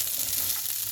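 Almonds fry in hot oil in a pan for Kabuli pulao, giving a steady, close sizzle with a bright hiss and no talk.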